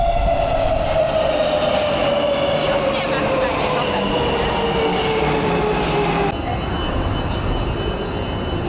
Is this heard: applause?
no